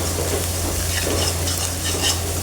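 Pumpkin sabzi with turmeric frying in a pan, a dense steady sizzle with soft stirring scrapes, close and continuous over a low background hum.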